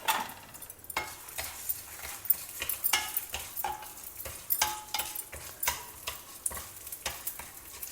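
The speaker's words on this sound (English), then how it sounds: "Heat oil in a pan, add the dry red chillies and a tablespoon of Urad dal" Dry red chillies and a tablespoon of urad dal frying in a pan of hot oil, a steady close sizzle broken by repeated scrapes and stirs of a spoon against the pan, with no talk.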